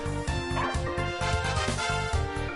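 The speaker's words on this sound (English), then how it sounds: "Oh, puppy! Come on, don't bark, please." A puppy in the video game Wild Arms 2 gives a rapid series of short, yappy barks and yips in a steady, repeated rhythm over game music. It sounds close and moderately loud.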